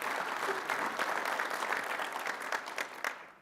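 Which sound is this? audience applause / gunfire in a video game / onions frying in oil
audience applause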